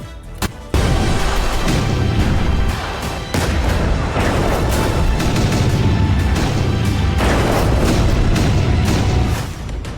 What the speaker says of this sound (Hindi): मिसाइल की शक्ल में आसमान से गिरती आग, बम धमाकों से खंडर में तब्दील होती इमारतें